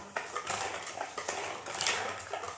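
Wheat flour chocolate cake batter being stirred in a bowl, with a steady scraping and clinking of a utensil against the sides, close and continuous throughout.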